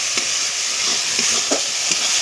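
Spice masala frying in hot oil for an eggplant curry, a constant bright sizzle with soft rhythmic stirring strokes of a spoon, close and steady with no voices.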